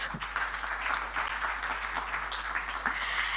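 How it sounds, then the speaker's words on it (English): An audience at the official opening of an annual general meeting applauds the Deputy President, a steady wash of many hands clapping heard from some distance, fairly soft and even throughout. "I think we can give the Deputy President a round of applause."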